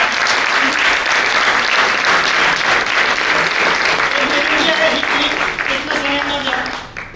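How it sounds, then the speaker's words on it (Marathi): An audience at a book lovers' gathering in Karad claps loudly and continuously, a dense close burst of applause that holds steady before fading out at the end, with some voices mixed in. "त्या मीनाताईंसाठी सारेजण एकदा टाळ्यांचा कडकडाट करून"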